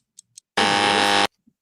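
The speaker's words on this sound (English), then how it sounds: "and there is a buzzer." One loud, flat electronic buzzer blast lasts under a second, with a few faint clicks before and after it.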